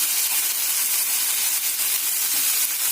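Chopped tomatoes frying in a pan for a fish curry give a steady, dense sizzling hiss that runs on without a break and stays fairly loud the whole time.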